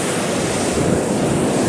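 Ocean waves washing onto a beach at night, a continuous loud hiss of surf mixed with wind buffeting the microphone, with no voices.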